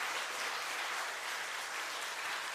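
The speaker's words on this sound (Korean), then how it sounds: "하나님께 영광의 박수" A church congregation at a Sunday afternoon service claps together in steady, dense applause, heard at a modest distance and sustained without a break.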